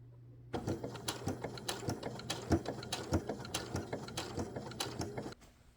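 A sewing machine stitches around the edge of a bucket hat in a rapid, even run of mechanical clicks and thumps lasting about five seconds, close and clear with no talking, then stops.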